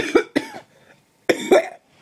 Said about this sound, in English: Excuse me, sorry about my coughing.